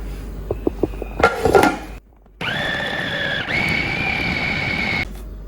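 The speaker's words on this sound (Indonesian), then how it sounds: "Aku chopper aja biar rata, biar betul-betul menyatu." A small electric food chopper chops beef: a few clinks and clatters come first, then after a brief silence its motor whirs steadily and loudly for a few seconds, the pitch shifting slightly midway before it cuts off.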